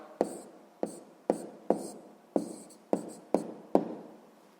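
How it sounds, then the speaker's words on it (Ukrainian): Close pen scratching on paper during a sixth-grade maths exercise on reciprocal numbers: about eight distinct short strokes, each with a crisp attack that fades, evenly spaced and quiet, with no voice. "записуємо так"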